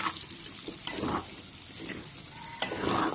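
Adobo sa suka stirred while frying in its rendered fat, a soft steady sizzle with repeated scraping strokes of the spoon, fairly faint and close.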